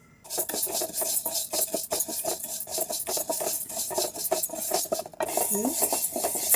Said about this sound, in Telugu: దీన్ని గిన్నె పెట్టుకుని అది కొంచెం వేడెక్కాక పెసరపప్పుని అందులో దీన్ని ఒక 3-4 నిమిషాల పాటు వేగించుకుంటే పాయసం కమ్మదనం వస్తుంది.